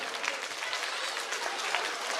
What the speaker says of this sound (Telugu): మీరు చప్పట్లు కొట్టాలి అని మనసు వస్తే ఒక్కసారి ఎంటీఎస్ బృందానికి మొత్తం కలిపి చప్పట్లు